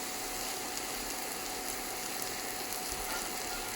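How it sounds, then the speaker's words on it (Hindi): Batter fries in ghee over a medium flame, giving a steady, close, continuous sizzle that runs unbroken from start to end with no voices. "इसको मीडियम आंच में पकने देंगे जब तक कि क्रिस्प ना हो जाए। और यहाँ पर भी हम इसको घी से ही बनाएंगे"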